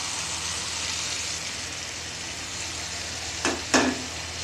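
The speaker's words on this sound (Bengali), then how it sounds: "আরও আমি একটু কিছুক্ষণ নাড়াচাড়া করব" Masala pasta sizzling steadily in a hot pan, a continuous frying hiss with a couple of sharp scrape-like stirs near the end.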